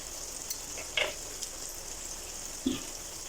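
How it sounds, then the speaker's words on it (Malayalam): Ivy gourd (kovakka) pieces fry fish-fry style in a pan with a steady, soft sizzle, broken by a couple of brief stirring clinks and scrapes. "മീൻ ഫ്രൈ ചെയ്തെടുക്കുന്ന പോലെ നമുക്ക് ഇത് ഫ്രൈ ചെയ്തെടുക്കാം"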